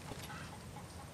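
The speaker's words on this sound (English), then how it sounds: "Chicken." Chicken clucking in the video game The Saboteur, a steady low fowl clucking running through the short moment with no talk over it.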